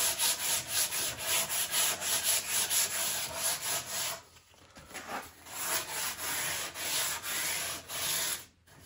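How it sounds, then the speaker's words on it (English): Hand sanding of a carved wooden guitar neck with 60-grit sandpaper, a close rhythmic run of scratchy back-and-forth strokes, briefly pausing midway, with no talk. "I can also work that out with sandpaper."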